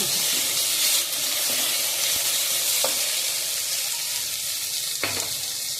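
Onions and ginger garlic paste sauté in a hot pan with a steady, dense sizzle throughout, broken by a few soft scrapes and taps of stirring, close and fairly loud with no voices.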